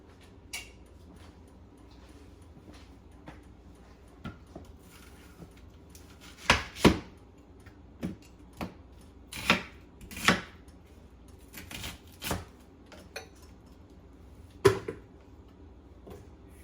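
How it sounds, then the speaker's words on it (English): Onions, garlic and ginger in a food processor, heard as a series of separate sharp chopping bursts and clicks, some louder and doubled, spaced irregularly over a quiet background with no speech. "in the food processor. And this will be my onions, garlic, and ginger."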